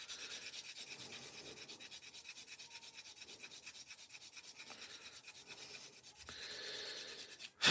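Steady rhythmic rubbing as paint is scrubbed off a small scale model part, close and continuous with a faint abrasive scratch, ending in a brief louder knock.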